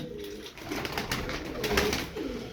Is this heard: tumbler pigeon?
yes